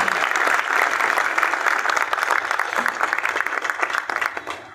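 A crowd at a political rally in Multai bursts into loud, sustained applause for their MP, dense clapping running steadily for several seconds before tapering slightly at the end.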